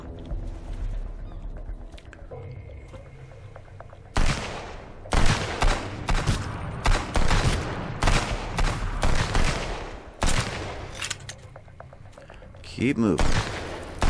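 Repeated bursts of gunfire in the survival game Sunkenland, loud clustered shots and volleys firing through trees in uneven rhythm, with someone speaking briefly over the shooting.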